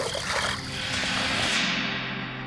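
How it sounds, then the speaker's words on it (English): A rock is thrown into a river and lands with a short splash and gurgle over the steady rush of flowing water nearby, the sound tailing off after about a second and a half. "I'll throw a rock in so people can tell we're by the river"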